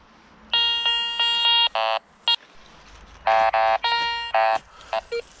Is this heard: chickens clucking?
no